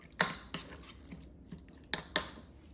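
A spoon stirs egg salad with celery and mayo in a bowl, producing a few sharp clinks and scrapes at irregular intervals, close and fairly quiet with soft gaps between strokes.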